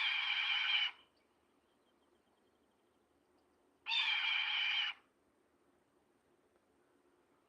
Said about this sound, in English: This is the red-tailed hawk over here, the red-tailed hawk. This is what it sounds like, guys.